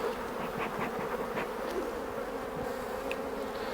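Honeybees buzzing steadily in an open hive during an inspection, a continuous close, dense drone with no talking.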